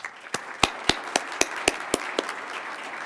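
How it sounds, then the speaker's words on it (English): At an awards ceremony, a small audience claps sparsely in distinct, separate strikes, about a dozen evenly spaced claps that taper off, fairly close and quiet. "Please join me in applauding Diane's service."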